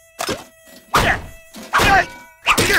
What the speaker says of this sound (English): The mosquito is still alive. There's a mosquito.